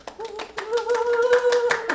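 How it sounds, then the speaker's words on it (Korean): A few sharp hand claps from people at a Korean television broadcast recorded in Jeju, scattered and uneven beneath a sustained, tonal voice. "조금 더 세게 박수 쳐주면 안 될까요?"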